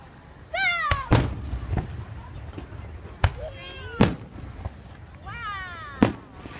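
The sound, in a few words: fireworks exploding in park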